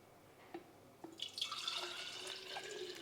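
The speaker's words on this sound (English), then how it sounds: "And now we pour juice number 2." Homemade citrus carrot juice is poured into a glass. A couple of faint drips come first, then a steady, quiet liquid trickle fills the last half of the moment.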